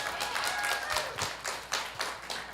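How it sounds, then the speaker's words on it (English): A small studio audience at a live arts talk show in Roanoke gives a brief round of applause. Scattered, fairly light clapping sounds close by. "you can applaud that, yeah."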